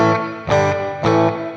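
Two strummed electric guitar chords ring out through a Sonicake Pocketmaster reverb pedal set fully wet with no dry signal, each one swelling and washing into a long smeared tail.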